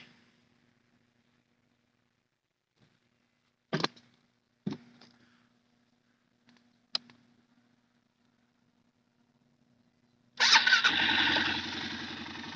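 A 2009 Arctic Cat 550 TRV ATV gives a few short clicks and cranks, then its engine fires and rumbles loudly and steadily near at hand after a long quiet pause.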